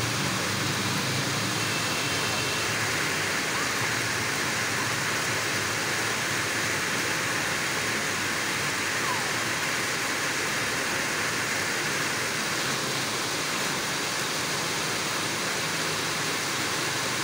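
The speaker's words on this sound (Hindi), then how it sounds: "बारिश अभी भी हो रही है, पुरजोर बारिश" Steady, dense roar of heavy rain heard from a home balcony, a constant broadband hiss with no breaks, continuing evenly throughout with no voices.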